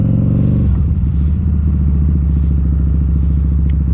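A Harley-Davidson V-Rod motorcycle engine idles loudly up close with a steady, deep, lumpy throb. It blips briefly at the start, then settles into an even pulsing rumble with no voices.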